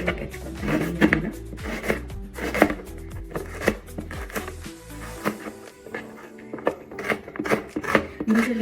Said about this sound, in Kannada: ಸೊ ಈಗ 2 ಈರುಳ್ಳಿ ತೊಗೊಂಡಿದ್ದೀನಿ, ಹೆಚ್ಕೊತಾ ಇದ್ದೆ, ಸಣ್ಣ ಸಣ್ಣಕ್ಕೆ ಹೆಚ್ಕೊತಾ ಇದ್ದೀನಿ.